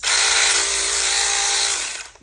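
A high-pitched electric saw whines at speed, loud and close, running steadily for about two seconds before winding down.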